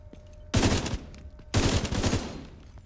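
Gunfire in The Division 2 video game hitting a barricade: two loud, close automatic bursts, each a dense rattle of shots lasting about half a second to a second.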